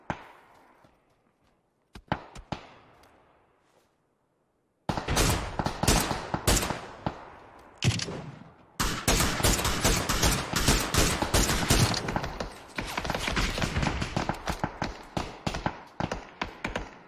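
A gun tap-fired in PUBG team deathmatch: a few isolated sharp shots with decaying echoes, a pause, then a fast sustained run of loud close shots, one quick crack after another.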